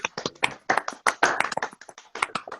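Several online participants come off mute and clap together as a thank-you, with scattered, uneven hand claps and taps from different microphones overlapping in a loose, brief round.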